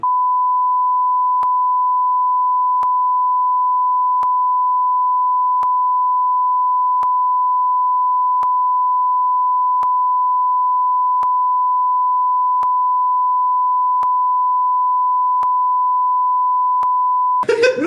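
A long, steady, loud pure censor beep tone holds unbroken for about eighteen seconds with faint regular ticks, then cuts off abruptly into a brief burst of noise.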